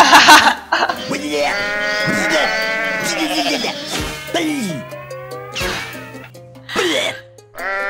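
A goat bleats repeatedly in the video game Goat Simulator, in loud, wavering calls that come in several bursts over a low background hum, with a few sharp snorting noises between them.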